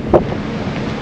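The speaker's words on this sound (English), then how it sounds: "The wind is actually quite nice." Wind buffeting the microphone on the deck of the Regal Princess cruise ship at sea, a continuous loud rushing roar with a brief gust near the start, close and alone.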